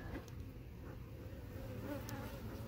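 Dark-colored honey bees of a caught swarm fill the air with a dense, even buzzing right up close, unbroken and alone.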